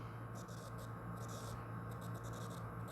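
Short bursts of scratchy strokes from writing on a surface during a calculus lecture, faint and in rhythmic clusters over a low steady hum, with no voice.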